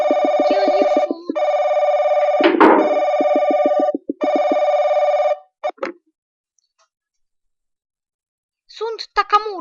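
A phone ringtone chimes in loud, repeating electronic tone bursts with brief gaps between them, then stops, and a few spoken words follow after a pause.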